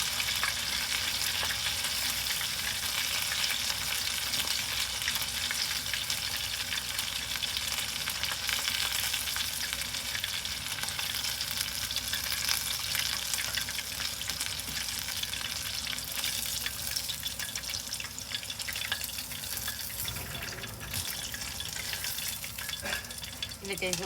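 Chicken karaage pieces frying in hot oil, a steady dense sizzle and crackle throughout with occasional stirring, no voices.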